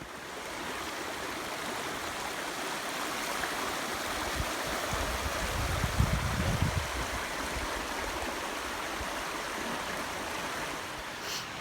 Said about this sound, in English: I was crossing this little creek.